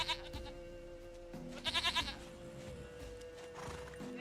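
A goat bleats in The Witcher 3, a quick burst of several wavering, nasal bleats in the middle of the clip, set over a quiet game ambience with background music.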